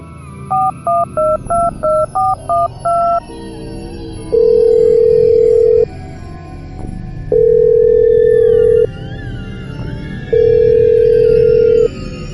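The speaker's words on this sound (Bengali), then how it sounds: "সে ফোন লাগালো" A telephone number is dialed with a quick run of touch-tone beeps, followed by three long steady ringback tones separated by pauses, loud and clear with no voices.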